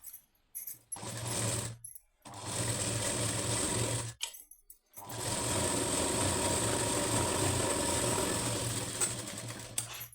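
A sewing machine stitches a blouse lining in steady motor-driven runs, close and clear, with brief pauses between bursts and no talking.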